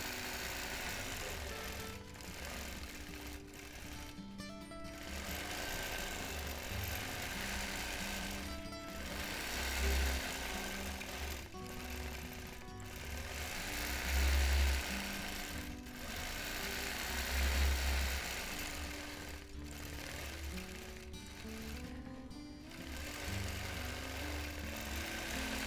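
A quilting machine sews a clamshell quilt pattern in a continuous mechanical chatter with a steady motor whir, close and sustained for over twenty seconds, its pitch and pace shifting slightly as it moves.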